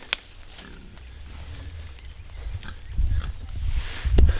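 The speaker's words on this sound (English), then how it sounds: "Put pigs in the woods, they said." Pigs rooting and moving through woodland, with low snuffling grunts and rustling that build in loudness toward the end, punctuated by a sharp knock near the start.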